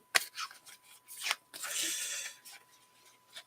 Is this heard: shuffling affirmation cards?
yes